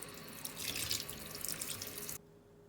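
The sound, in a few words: rinsing herring fish under running tap water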